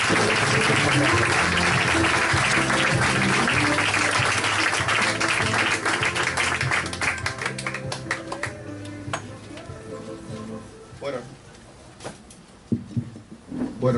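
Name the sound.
audience applause for a speaker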